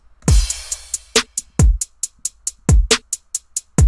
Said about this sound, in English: So altogether, the drum loop sounds like this.